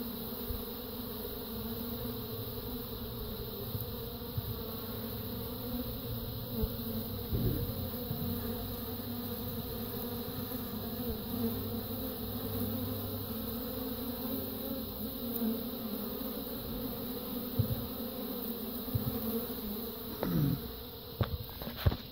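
Honeybees buzzing around a hive in an apiary in February, a continuous soft hum of many insects close by, steady and fairly quiet with a few faint knocks near the end.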